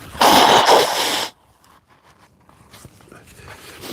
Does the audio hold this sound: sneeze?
yes